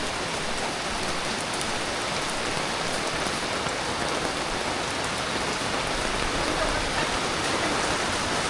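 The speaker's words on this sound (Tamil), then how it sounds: "எப்படி மழை பெய்ந்து பாய்ஞ்சிக்கிட்டு இருக்கு பாருங்க கடுமையான மழை" Heavy rain from an approaching cyclone (Cyclone Senyar) pouring steadily, a dense, loud hiss of water with no pauses.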